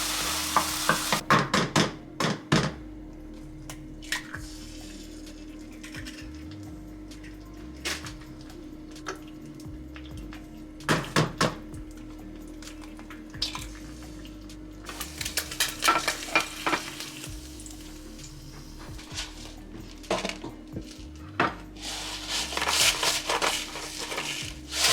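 Eggs cooking in a hot pan give a continuous sizzle, broken by bursts of stirring and scraping clatter that come and go across the stretch.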